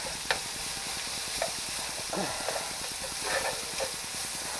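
Oil sizzles softly in a pan as French onion chicken cooks, a faint continuous hiss with a few light clinks from stirring.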